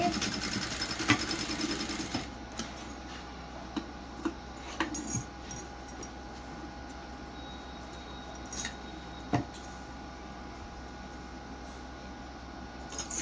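A sewing machine stitches a plain blouse straight along a marked line, its motor whirring steadily at close range with soft clicks and taps of handling between the runs.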